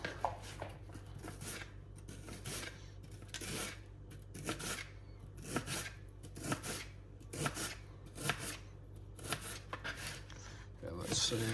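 A knife slices an onion lengthwise into thin slivers on a cutting board, a dozen or so crisp, evenly spaced cuts in a steady rhythm, close and fairly quiet.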